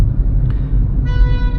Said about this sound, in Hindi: अगर कोई बार बार ऐसे हॉर्न बजा रहा है तो निकल जाने दिया करें